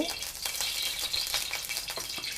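Pork lard heating in a wok before stir-frying Thai basil with chili and garlic, giving a steady, close hissing sizzle with small crackling pops throughout.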